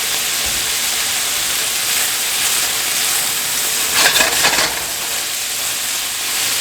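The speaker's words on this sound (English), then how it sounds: "diced ham. Cook those up a little bit." Diced ham cooking in a pan, a steady close sizzle and hiss throughout with a brief louder crackle near the end as the pieces are stirred, no talking.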